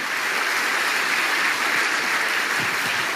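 An audience in a large church arena applauds continuously, a dense, loud wash of clapping held throughout with no pauses.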